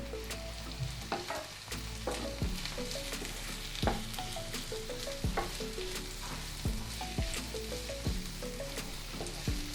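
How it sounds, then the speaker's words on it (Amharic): Onion and garlic fry in a little oil for a zucchini and tomato stir fry, giving a steady close sizzle broken by frequent scraping, clattering stirs of a utensil against the pan, with no talking. "በጣም በጥቂት ዘይት ከጠበስን በኋላ ሽንኩርታችንን እንጨምራለን ወዲያውም አብረን ነጭ ሽንኩርታችንን እንጨምራለን"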